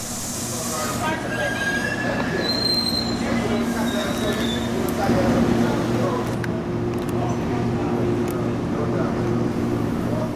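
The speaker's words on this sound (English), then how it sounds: "My second catch was Tri-Rail P634, headed northbound to Magonia Park." A Tri-Rail commuter train, P634, passes northbound with a steady low rumble of rail cars and a sustained tonal hum, plus brief high squeals from the wheels, loud and continuous throughout; faint voices may sit beneath it.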